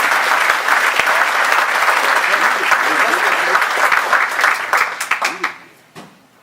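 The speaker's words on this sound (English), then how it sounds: "Let's give a round of applause for Jerry Crane." Audience applause at a community first-citizen awards dinner, a loud close crowd of clapping hands that holds steady, then breaks into scattered claps and dies away near the end.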